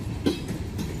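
Freight train cars, including grain cars pulled by a Norfolk Southern engine on the Susquehanna Railroad, roll steadily past close by with a rumbling, rhythmic clickety-clack of wheels over rail joints.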